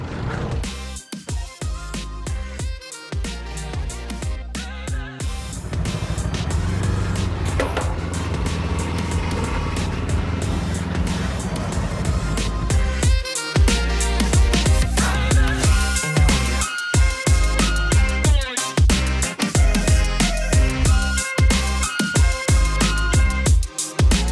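A new Yamaha MT-03 motorcycle engine is started for the first time, with short mechanical noises leading into a loud steady engine run. The engine stays loud and close for a long stretch, with bursts of revving.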